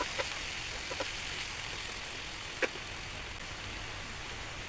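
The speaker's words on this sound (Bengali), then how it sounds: "এখন লবণ হলুদ মাখা করলাগুলা একটু ভেজে নেব।" Salted, turmeric-coated bitter gourd (karela) fries in a pan with a soft, steady sizzle heard faintly and up close, broken by a single brief clink partway through.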